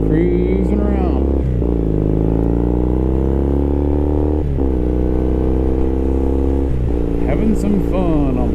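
A Triumph Thruxton motorcycle engine drones loud and close while riding, with steady harmonic tones that rise and fall as the rider shifts through the gears.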